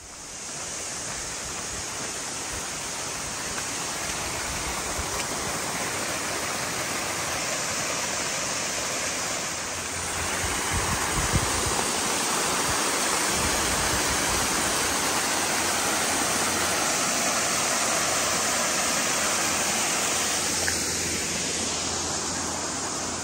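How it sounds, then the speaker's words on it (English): Rushing roadside waterfall on the Te Araroa Trail, swollen after heavy rain, a steady loud broadband roar of cascading water that holds constant and close throughout with no voices. "it is just never-ending waterfalls along this road to the track"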